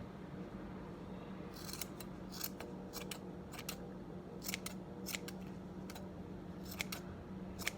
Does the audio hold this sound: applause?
no